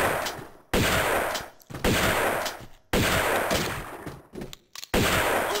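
Loud bursts of sustained gunfire from the Tomb Raider 2 Remastered video game, several long volleys broken by short pauses, alone without talk.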